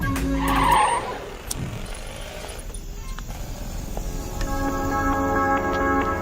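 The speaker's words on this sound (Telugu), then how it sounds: "బండిని పక్క ఆపుకోరా" A car or motorbike pulls over and stops, with a brief tire skid and squeal early on followed by a steady low engine rumble as it settles.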